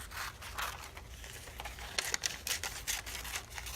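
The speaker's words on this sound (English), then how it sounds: "So I'm going to use my scissors and just kind of cut around it" Scissors rough-cutting a picture out of a glossy magazine page: a close, quiet run of irregular crisp snips and paper rustles, with no talking.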